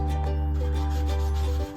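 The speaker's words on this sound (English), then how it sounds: "actually sanding this" An aluminium window frame from a vintage caravan, marked by aluminium corrosion, is being sanded with a steady, droning machine hum and a constant rubbing grind, close and loud throughout, cutting off just before the end.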